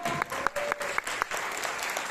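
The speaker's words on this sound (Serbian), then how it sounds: "jedan lep aplauz za cijelu ovu završenu ekipu" Audience applause at an evening of Indian culture and music in Belgrade, a steady crowd clapping with a few sharper individual claps standing out, fairly close and continuous throughout.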